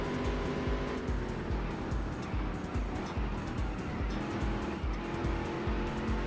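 Race car tires squeal and slide in a racing video game at a rally track, a loud continuous engine roar with a rhythmic pulsing of repeated bursts running throughout.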